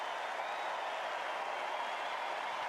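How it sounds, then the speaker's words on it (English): A large crowd on Wimbledon's centre court gives a long, steady ovation for Novak Djokovic as he leaves, dense sustained applause at an even, moderate level with no breaks. "As he gets up and leaves the court, a huge ovation for Novak Djokovic."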